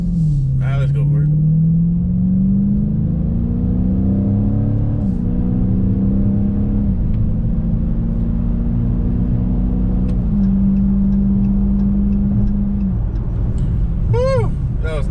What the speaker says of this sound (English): Just the fact that you can just step on the pedal and the car goes.